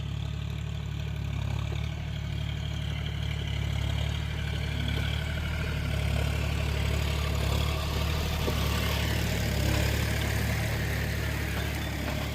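John Deere 5105 tractor pulling a cultivator through a field, a steady low diesel drone with a constant throb and faint clatter, close and continuous throughout, with no talking.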